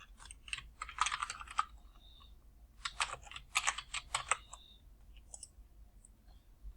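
Typing on a computer keyboard at a desk while drafting a part drawing, with two close bursts of rapid key clicks separated by a short pause, then a few scattered taps.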